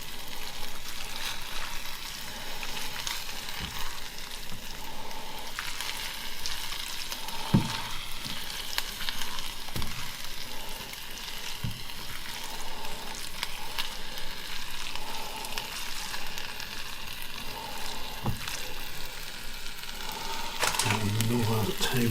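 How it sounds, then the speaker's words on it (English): Salmon and courgette linguine is stirred with dill in a hot pan, a steady sizzle with occasional spoon knocks and scrapes running throughout while a person talks over it. "I'm going to do a couple of tablespoons of dill in,"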